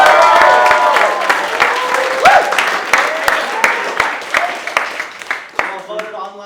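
Film-festival crowd at Nukhufest 2025 applauds loudly and cheers, the dense clapping thinning into scattered claps toward the end.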